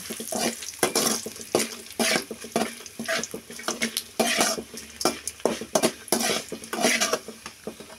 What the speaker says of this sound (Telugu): ఎండు మిరపకాయలు ఒక 50 గ్రాములండి, మాడిపోకుండా వేయించుకోవాలండి